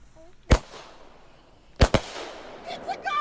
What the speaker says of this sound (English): Now we know about this famous firework that caused the fire.